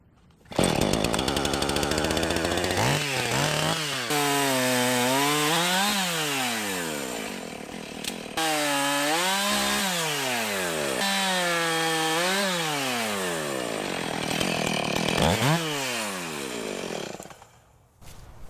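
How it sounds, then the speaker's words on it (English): Gasoline chainsaw cutting through a tree limb at a V crotch, a loud close engine whining and rising in repeated surges as it bogs into the wood, then dropping away near the end. "I'm gonna pull out the chainsaw and cut it off at the V and then yank it down"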